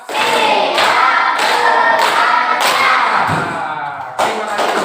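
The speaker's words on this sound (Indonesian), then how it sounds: "Tepuk 5." Five loud, rhythmic group hand claps in a classroom counting routine, steady bursts close together with a brief ring in the room between them.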